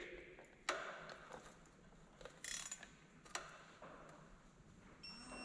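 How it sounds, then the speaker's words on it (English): Torque wrench ratcheting on an engine bolt while fitting a Duramax into a Top Kick, a few faint irregular clicks and clunks in a quiet shop with no talk. "now we reset our torque wrench and we gotta do another 60 degrees"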